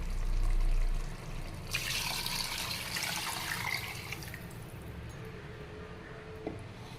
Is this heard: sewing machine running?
no